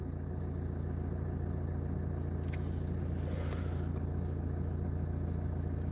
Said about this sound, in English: Clearly the car don't like sitting still.